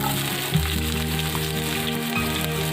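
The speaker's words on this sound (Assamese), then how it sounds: "তাৰপৰা পিঁয়াজ দিলোঁ। পিঁয়াজখিনি অকণ ৰঙচুৱা হোৱালৈকে ভাজি লওঁ।" Onions fry in hot oil in a wok with a steady, dense sizzle and crackle, loud and close, with a low bump from stirring partway through.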